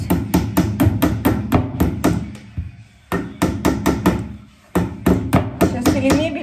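A hammer drives a nail into a kitchen cabinet in a run of sharp, close, loud blows, with short pauses between the bursts of strikes.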